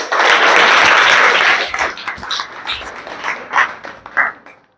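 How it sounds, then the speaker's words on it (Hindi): A Class 8 science class claps hands together, a loud dense burst of applause for about two seconds that breaks into scattered individual claps and fades out, with no talking. "चलिए इसके लिए ताली बजाओ जी।"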